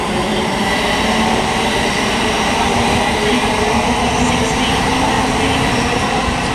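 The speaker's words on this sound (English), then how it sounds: "arriving as the last train in this video is 16:38 East Midlands Railway service from Nottingham to" An East Midlands Railway passenger service from Nottingham to London St Pancras pulls into Luton Airport Parkway on the Midland Main Line, a loud, continuous rumble of wheels and engine close by, with a faint squeal and no talk.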